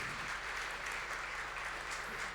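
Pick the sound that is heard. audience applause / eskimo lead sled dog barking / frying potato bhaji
audience applause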